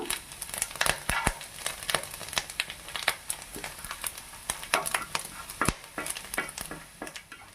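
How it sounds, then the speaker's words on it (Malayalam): Coconut pieces and cashews fry in ghee for an Onam rice flake payasam, giving a close, busy sizzle broken by frequent sharp crackles and scraping stirs of a spoon in the pan, with no talking. "തേങ്ങാക്കൊത്തും ക്യാഷ്യൂ നട്ട്സും ഫ്രൈ ചെയ്ത് ഇതേ നെയ്യിൽ"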